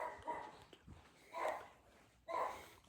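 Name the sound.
dog barking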